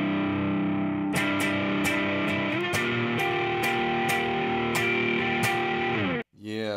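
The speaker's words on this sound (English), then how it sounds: "Turn up the mix on the reverb." Distorted electric guitar through a Line 6 Helix heavy preset with reverb turned up, sustained chords washing into a shoegaze-style tail, punctuated by about a dozen sharp regular pick attacks before a brief cutoff.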